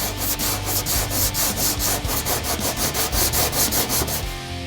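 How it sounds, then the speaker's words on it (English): Hand sanding of a finishing glaze on a scratch and chip repair with 80 grit sandpaper, steady back-and-forth rubbing strokes in an even rhythm, close and continuous with no talking. "Switch back to your 80 grit sandpaper to start sanding the finishing glaze to level it out."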